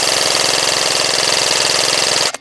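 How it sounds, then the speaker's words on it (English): An Echo 1 BTS MOD 2 M4 airsoft AEG with an upgraded inner barrel and bucking firing a long full-auto burst outdoors, a rapid even mechanical buzz of shots that stops abruptly at the end. "I'm gonna do a long range full auto dump just to see what we get"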